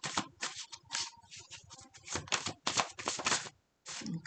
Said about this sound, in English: This is the only part of the reading where I shuffle on camera. And I apologize for it being so loud.